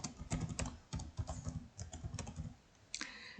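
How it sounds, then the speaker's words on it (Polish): An email address being typed into a web form on a computer keyboard, close and fairly quiet, with rapid clusters of key clicks, a brief lull, then a final burst, no speech. "Potem wpisuję e-mail"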